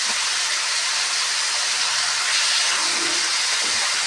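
Vegetables fry with turmeric and coriander powder in a hot pan, giving a steady, even sizzling hiss that stays constant and fairly soft, with no voices.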